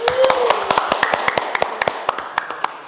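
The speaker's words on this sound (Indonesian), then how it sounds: "Tepuk tangan kelompok 1." A group of students claps for their classmates in a classroom, a quick run of sharp, evenly spaced hand claps that stays close and loud for a few seconds.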